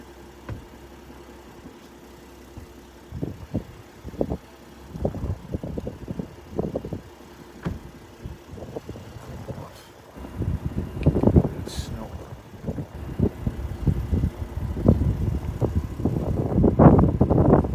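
A truck engine idles in a driveway, a low steady rumble heard beneath intermittent voices and wind buffeting the microphone, growing louder toward the end.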